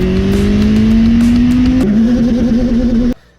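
A Willys Jeep rat rod's engine revs loudly and close while driving, a rising roar that climbs in pitch, shifts once, then climbs again before cutting off sharply.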